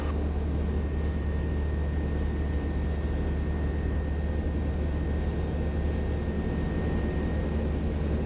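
Steady engine drone inside an ultralight (ULM) aircraft flying high over the Chartreuse and Bauges mountain ranges near Albertville, a continuous loud hum with a faint tonal whine and no talk.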